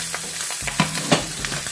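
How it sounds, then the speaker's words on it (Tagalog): Pork frying for pochero in a pan, hot oil crackling and spitting with a steady sizzle broken by several sharper pops and splatters, close by with no voices. "Tumatalsik na yung kanyang mantika."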